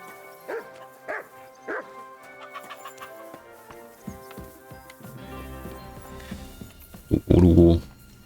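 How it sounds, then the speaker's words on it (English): Dog barking in Kingdom Come: Deliverance II, three spaced barks near the start followed by softer yips and whimpers, with a louder burst of sound near the end over background game audio. "You better call back that dog."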